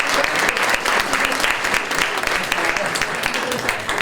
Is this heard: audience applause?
yes